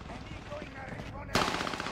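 A burst of rapid automatic gunfire erupts in a multiplayer shooter game, loud and dense after a brief quieter stretch of game noise.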